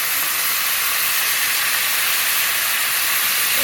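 Coconut milk pouring into a hot shrimp curry pan, a steady, loud hiss and sizzle of liquid hitting the heat, continuous and close with no talking.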